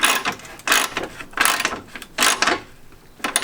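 Ratchet wrench tightening 12mm radiator support bolts on a Toyota GT86: four bursts of rapid clicking pawl strokes, close and crisp, with short pauses between strokes.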